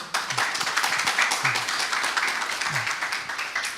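An audience at a Latin American Ubuntu conference applauds a talk's sponsor, brisk, steady clapping from a modest indoor crowd with some low thumps underneath, lasting several seconds.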